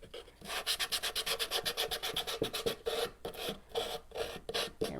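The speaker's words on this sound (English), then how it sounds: "You just come in and sand as much as you want." Hand sanding a wooden cutting board tool box, a steady series of rhythmic rasping strokes, close and fairly loud, with brief pauses between bursts.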